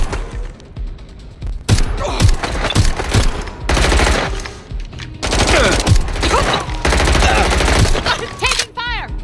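Rapid gunfire in a Watch Dogs Legion shootout: repeated loud bursts of automatic fire and single shots in clusters, close and sharp, with brief gaps between volleys and a voice faintly under the shooting.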